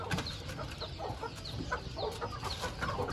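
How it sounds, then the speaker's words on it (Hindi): Shamo chickens, a rooster with hens, clucking in short, repeated bursts close by amid faint rustling and background bustle, the calls scattered irregularly throughout. "ये मुर्गी है, ये आपको सेट मिलेगा, एक मुर्गा दो मुर्गियों का।"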